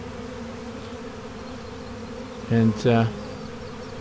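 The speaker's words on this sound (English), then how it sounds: "so the ones that show up now will join my basket of bees" Honey bees buzzing steadily around a swarm outdoors in July, a constant close hum that runs throughout, briefly overlapped by a single spoken word.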